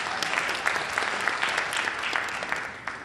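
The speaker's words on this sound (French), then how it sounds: "Donnons un moment d'applaudissement à Yannick." A church congregation applauds for Yannick during a sermon, a dense, steady round of clapping from many hands that carries on evenly for about three seconds with no voices over it.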